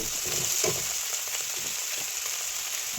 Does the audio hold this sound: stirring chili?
yes